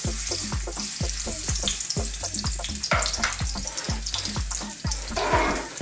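Ginger frying in oil in a pan for lemon pan-fried scallops gives a loud, steady sizzle, broken by a run of regular low thumps close by.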